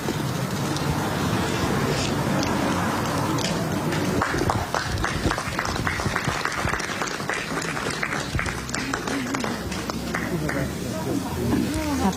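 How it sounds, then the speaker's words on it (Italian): Sustained applause at a ribbon-cutting inauguration of new laboratories: a crowd clapping densely and continuously, with dense background noise that grows thicker midway. "Applauso"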